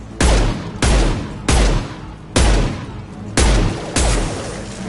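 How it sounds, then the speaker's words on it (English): Six heavy, booming gunshots from the video game Mass Effect, evenly spaced about a second apart, each loud and close with a decaying tail and no talk. "He's gunning down his own crew to keep control?"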